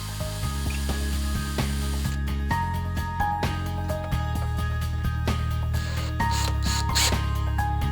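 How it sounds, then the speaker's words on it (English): A drill runs in short bursts while driving 13mm screws into a rosette foot on an entrance door, with the motor pitch changing between the start-stop runs and clicking under each one. "The rosette foot is fixed with two 13mm screws, both externally and internally. Pre-drill using a 3mm drill."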